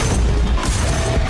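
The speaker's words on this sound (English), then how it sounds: "Truck running into trains." Explosion from a truck crashing into a train in a movie trailer, a loud, dense burst of booming noise and debris that fills the whole moment with no voices.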